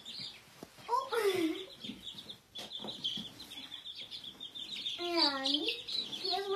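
Orpington chicks peeping in short, high, rising chirps, with a close burst early on and another near the end, over faint background sounds on a small farm.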